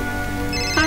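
A mobile phone ringtone chimes loudly and close by in a short electronic burst, with a rising tone at the end.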